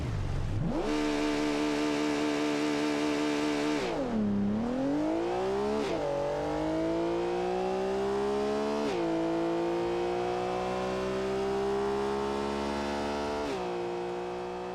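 A Porsche GT3 RS screams through a quarter-mile drag run, its engine note climbing steadily through several gear changes in one loud, continuous, close-up acceleration.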